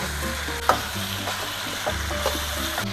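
Pork trotters stir-fried with chili bean paste in a pan sizzle steadily up close, with a sharp spatula scrape early and a few lighter scrapes and knocks after.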